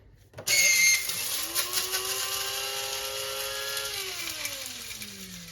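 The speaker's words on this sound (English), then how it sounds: "It's my little spice grinder here, and I'm going to just pulse it." A small electric spice grinder whirs loudly at close range, its motor pitch rising and holding steady through a few seconds of continuous grinding before winding down; no talking.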